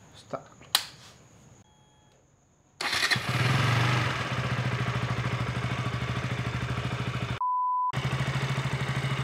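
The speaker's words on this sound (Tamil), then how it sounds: "ஸோ வண்டியை வந்து ஃபஸ்ட்டு நம்ம வார்ம் பண்ணிடலாம். ஸ்டார்ட் பண்ணிடலாம்." KTM Duke 200 motorcycle cranks and fires after a few clicks and a pause, then settles into a steady, rapid single-cylinder idle that stays close and even, briefly cut by a short tone.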